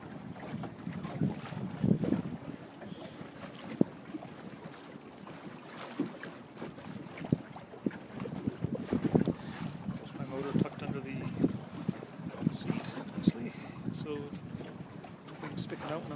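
A 16-foot schooner sails in a light breeze, with steady wind buffeting the microphone and soft water noise along the hull, continuous and fairly close throughout.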